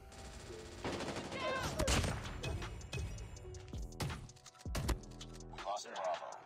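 A rapid-fire shotgun set to auto-fire in Call of Duty Mobile blasts in loud, booming bursts, several shots in quick succession with a short lull between, while players talk over the action.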